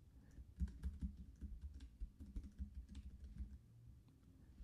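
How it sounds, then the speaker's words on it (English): Fingers type on a computer keyboard in a steady run of soft, close clicks and key taps, quiet and uninterrupted, with no voice over it. "I could type"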